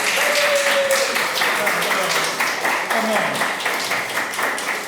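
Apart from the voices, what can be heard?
audience applause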